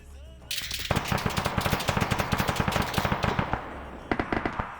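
Automatic gunfire in a military video game operation, a loud, sustained rapid-fire burst of evenly spaced shots lasting several seconds, then a short pause and another brief burst.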